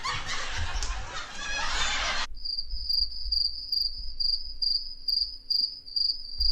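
Crickets chirping as a comedic silence effect, steady rhythmic high chirps alone after a burst of canned laughter.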